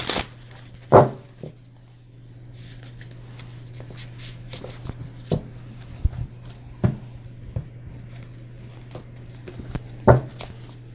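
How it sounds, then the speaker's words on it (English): Tarot cards being shuffled by hand in a quiet room: sparse, soft riffling bursts and taps spread irregularly over a low steady hum. "Just give it a little shuffle."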